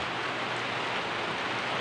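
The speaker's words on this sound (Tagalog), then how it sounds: "Oh, tingnan nyo kaibigan. Malakas din yung ulan dito." Heavy rain pours down steadily outdoors among banana trees, making a dense, even hiss that fills the whole clip without a break.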